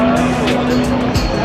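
Porsche GT3 RS driving by at a night car meet, a loud engine roar holding a steady tone across the clip, with a brief tire chirp near the end and background voices.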